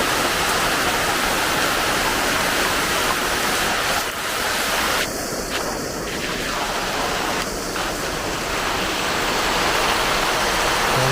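A sunshower pours down as a dense, steady hiss of rainfall that fills the whole stretch without a break, with a few faint brief sounds rising briefly above it near the middle.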